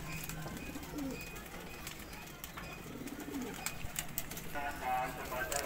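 Kept pigeons coo softly in a pigeon keeper's loft, with two low, throaty coos about two seconds apart. Outdoor background noise and faint voices sit underneath.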